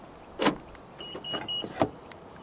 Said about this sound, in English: To lock the car, press the black button on any of the front door handles.